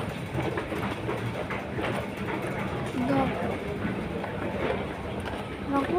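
A train to Disneyland rumbles with a steady mechanical clatter at a Hong Kong station, accompanied by faint squeals and background voices in a busy, echoing space.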